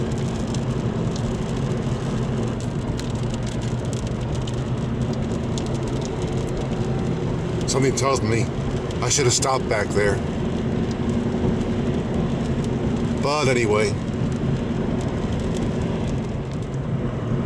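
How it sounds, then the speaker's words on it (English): Rain and road noise wash steadily over a car driving toward Pennsylvania, a constant hiss under the cabin, while someone talks briefly in the middle. "With some rain coming down."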